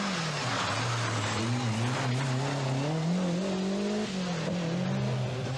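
A Lancia Delta Integrale rally car at the 1988 British Open Rally Championship drives past, its engine note climbing and dipping through gear changes amid loud road and gravel noise, with no speech.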